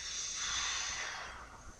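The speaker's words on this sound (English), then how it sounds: "Deep breath in and out." A patient takes a slow deep breath during a head-to-toe lung exam, one long close airy hiss that swells and then fades, with no talk.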